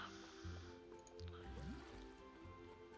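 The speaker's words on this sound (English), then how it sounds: "I guess you could just add some water in there." Soft drips and liquid squishes as water is added to an animal habitat in the video game Planet Zoo, faint and intermittent over quiet background tones.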